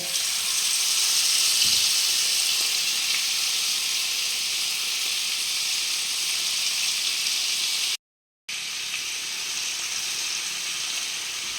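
Prawns frying in hot oil for a Kerala-style prawn roast give a steady, loud sizzle throughout, broken by one brief silent gap near the end.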